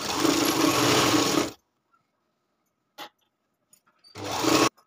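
A sewing machine running a line of stitches along a folded strip for a lined katori blouse, with a loud burst of stitching at the start, a silence broken by a brief clack, then another short run.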